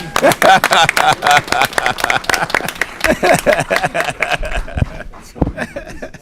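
Applause at an Aurora city council meeting marking a couple's anniversary: a brief burst of clapping from the chamber with some chuckling, tapering off in the last seconds.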